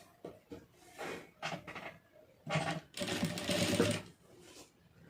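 A sewing machine stitches the lining of a blouse in bursts, with short runs of mechanical whirring and clatter separated by pauses, the longest and loudest run coming near the end.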